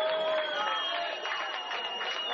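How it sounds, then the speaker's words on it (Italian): Audience applause at a 1987 dance evening in Sicily, a dense steady patter of many hands heard from a slight distance, sustained evenly without pause. "anche lei dobbiamo accogliere con un applauso"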